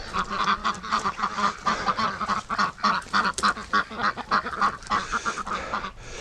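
Peking ducks quack and honk continuously in a yard, a busy, overlapping chorus of loud, close calls repeating throughout with no pauses.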